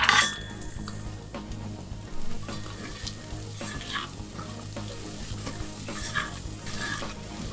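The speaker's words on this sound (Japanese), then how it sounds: "僕ここからはバターにして、こうバターの甘さっていうのを使って、野菜炒めていきます。" Aromatic vegetables sizzle and fry in butter in a pan for a French sauce, with repeated stirring scrapes and light clinks of a utensil against the pan, close and continuous.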